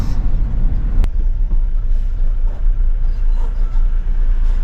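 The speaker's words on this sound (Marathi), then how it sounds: "आता आवाज येत असेल रस्त्यावर गाडीचा आता वेगळाच नॉईस" A car rolls along the rough Pune-Nashik road, producing a loud, steady low rumble of tyre and road noise inside the cabin, with one sharp knock early on.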